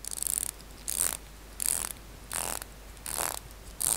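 Seiko Samurai SRPF03K1 dive watch with its bezel turned in six short ratcheting bursts of fine clicks, evenly spaced and recorded very close, with quiet gaps between and no talking.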